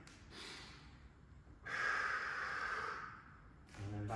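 Breathing and sharp exhales through the nose during a footwork workout, with a snort-like puff, a longer sustained breath in the middle and a final breath, all close and quiet.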